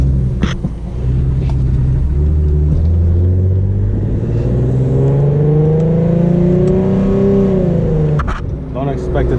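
The engine of an Infiniti G37 with an exhaust leak runs close by, rising in a steady rev with pitch climbing over several seconds before dropping back, with brief clicks near the start and end.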